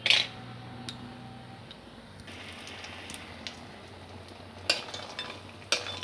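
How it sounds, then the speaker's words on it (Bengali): Lentil dumplings (bori) fry in hot mustard oil with a quiet, steady sizzle. Sharp clinks of a utensil against the pan come at the start and again near the end. "সর্ষের তেল গরম হয়ে গেছে, বড়িগুলো দিয়ে দিচ্ছি।"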